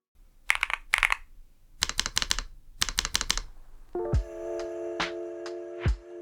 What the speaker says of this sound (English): I'll play a quick spacebar sound test now